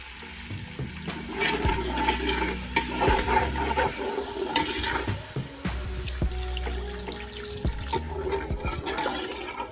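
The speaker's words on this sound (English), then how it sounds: "Next, I'll go in with my water." Water pours steadily into a pot, a continuous splashing, bubbling rush that lasts throughout, with faint kitchen clatter mixed in.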